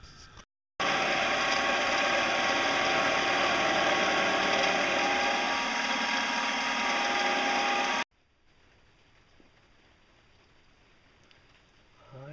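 A homemade cutter carves teeth into an aluminum bevel gear, giving a loud, steady grinding whine for about seven seconds before stopping abruptly, followed by quiet background.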